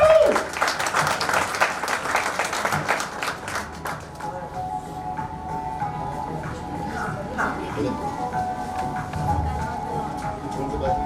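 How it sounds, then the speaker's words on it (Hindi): An audience at a women's empowerment stage event claps loudly and steadily at the start, the dense applause thinning over a few seconds into a quieter hall hum with scattered claps and murmurs. "कृपया जोरदार ताली बजाइए।"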